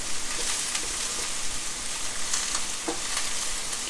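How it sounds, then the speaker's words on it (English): Leeks sauteing in a drizzle of olive oil in a pan, a continuous close sizzle with faint scraping taps as a spoon stirs them. "pop a little drizzle of olive oil in a pan, and then saute your leeks for a few minutes, just stirring them with a spoon"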